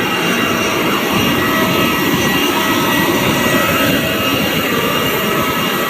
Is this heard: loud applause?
no